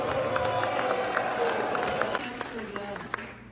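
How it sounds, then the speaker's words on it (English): A town hall crowd keeps up a dense, continuous murmur of voices, with scattered clapping and sharp shouted outbursts rising over it. "So here are a couple of outbursts from the crowd and reactions from Lawler."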